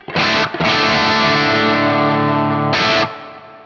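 Electric guitar straight into a Marshall amp with no pedal gives thick, distorted sustained chords, loud and close, with a short break early on and a fresh strum near the end.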